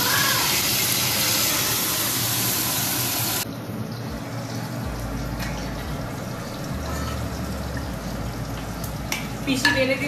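Food frying in a pan in a home kitchen, a loud broad sizzle at first that drops to a quieter hiss, with soft clatter and people talking nearby.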